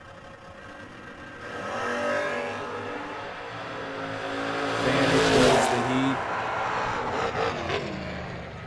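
Foot-brake drag racing cars launch down the strip, engines building to a loud revving roar that peaks as they blast past, with an announcer talking over the noise.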